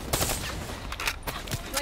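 Rapid gunfire in Call of Duty: Black Ops 3, several sharp close shots cracking in quick succession over a busy game background.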